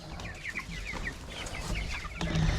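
Chickens inside a portable chicken tractor cluck in a steady busy chorus of short calls, close and moderately loud over faint background noise, with no talk.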